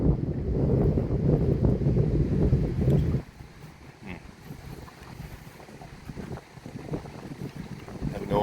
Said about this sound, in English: Wind is whipping.